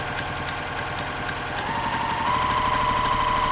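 A sewing machine back stitches through fabric for a quilted book cover, its needle running in a steady, close mechanical chatter with a rising whine as it speeds up, alone with no talk.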